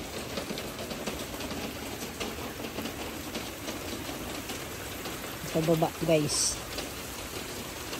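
Steady rain falling outdoors near a riverside, an even hiss that fills the whole stretch, with a person's voice speaking briefly near the end.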